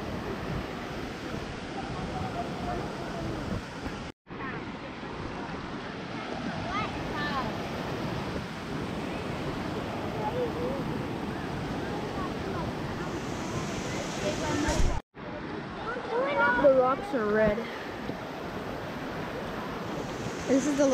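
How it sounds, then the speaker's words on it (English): Fast-flowing water rushing from a lake toward the edge of a waterfall, a steady loud broadband roar with wind buffeting the microphone, briefly cut twice, while people talk over it. "The water is going extremely fast."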